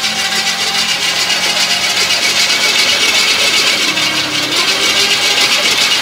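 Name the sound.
1951 Chevy 3100 pickup 327 engine cranking with spark plugs removed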